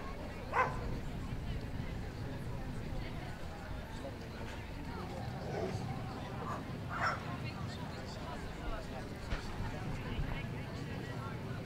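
Dogs at a working and pastoral breeds dog show give a few scattered, faint barks and yips within the crowded hall ambience, mostly under an announcer talking over a loudspeaker.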